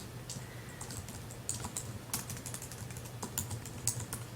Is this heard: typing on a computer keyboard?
yes